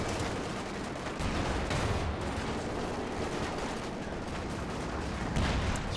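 Artillery barrage in a Company of Heroes 2 4v4 match: a dense, continuous roll of overlapping explosions and gunfire, loud and steady for the whole stretch with no clear gaps.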